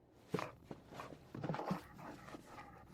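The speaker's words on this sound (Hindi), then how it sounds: "मेरे भेड़िया कुत्ते को लाओ और दरवाजे पर रखो।" A wolf-dog at a doorway gives a few short barks and soft whimpers, fairly close and moderately loud, spaced irregularly with some shuffling movement between them.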